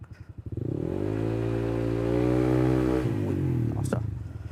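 A scooter engine, a Lark A1 fitted with an RC8 pulley, revs up from idle during a warm-up test, holding a steady high rev for about two seconds before dropping back, with clattery idle pulses at the start and end.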